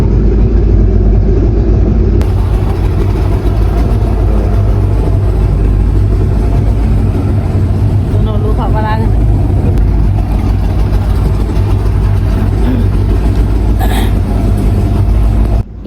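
A motorboat engine drones loud and steady on a boat safari through a mangrove forest, a continuous close rumble filling the whole stretch with faint voices underneath.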